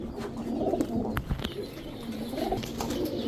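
Several paired pigeons, including high-flyers, racers and Oman Teddy birds, coo in overlapping low, throaty rolls, fairly close, with a few faint chirps and flutters mixed in.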